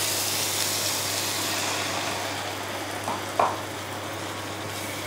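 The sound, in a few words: stirring okra in poppy seed gravy in a pan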